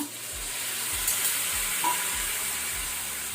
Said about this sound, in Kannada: ಈಗ ನಾವು ಇದಕ್ಕೆ ಬಾಯ್ಲ್ ಮಾಡಿಟ್ಕೊಂಡಂಥ ಚೆನ್ನವನ್ನು ಹಾಕೋಣ